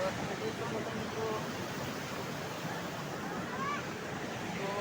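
Swollen Malan river in flood, brimming bank to bank in heavy rain, gives a constant full-bodied rushing roar, close and unbroken, with a few faint high tones above the water noise.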